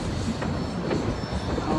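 A train rolls across a high bridge, its rail cars producing a steady, continuous rumble with faint wheel squeal, close and fairly loud, with no talking.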